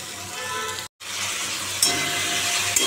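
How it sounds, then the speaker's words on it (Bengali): Onions frying in a pan with cumin powder, a steady, close, fairly loud sizzle that cuts out for a moment before carrying on, with a faint clink near the end and no voices. "এখন একটু পেঁয়াজটা লাল করে ভাজবো"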